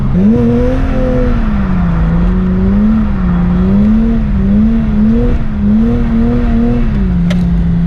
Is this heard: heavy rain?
no